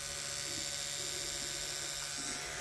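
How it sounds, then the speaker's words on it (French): An electric toothbrush runs in a steady, continuous buzz while grooming a pony, fairly quiet and unbroken for the whole stretch with no talking over it. "Et là on va allumer la brosse à dents."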